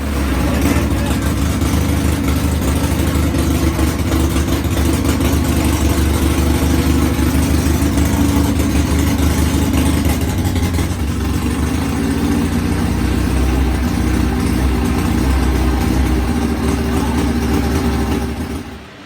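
Volkswagen engine with a dead cylinder fires up and idles, a loud, steady, uneven low rumble holding close and continuous throughout, with faint voices in the background.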